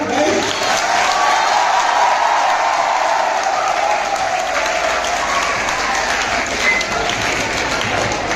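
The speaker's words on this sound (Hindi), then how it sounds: "बाबा से जोरदार तालियां।" Loud, sustained applause from an audience at a school branch opening ceremony in Neem Ka Thana, steady dense clapping filling the whole stretch without a break.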